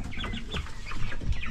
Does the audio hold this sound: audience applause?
no